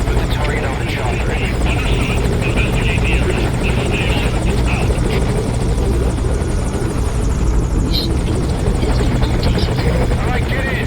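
A helicopter in the video game Metal Gear Solid V: Ground Zeroes touches down, its steady, loud rotor drone and engine whine filling the scene without a break, with voices talking over it.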